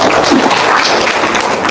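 An audience applauds with dense, continuous, loud clapping that holds steady from start to finish, with no clear talk on top.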